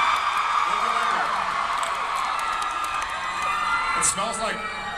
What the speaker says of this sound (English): Let's hear some more screaming.